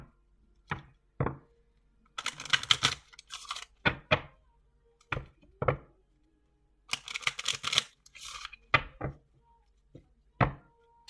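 Playing cards are shuffled and a card is drawn from a deck close by, heard as two bursts of riffling alongside scattered sharp taps and clicks in a quiet room.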